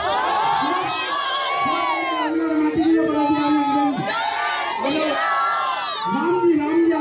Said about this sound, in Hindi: अरे बहुत भीड़ है उधर